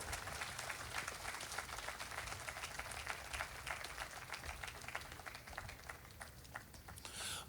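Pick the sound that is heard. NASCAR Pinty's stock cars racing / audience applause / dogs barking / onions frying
audience applause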